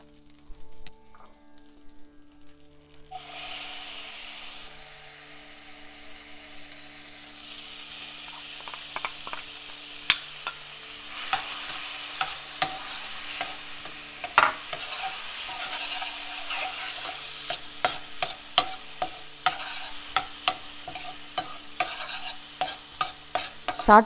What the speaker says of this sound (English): Now we add more ghee mixture to the pan and then saute the pineapple.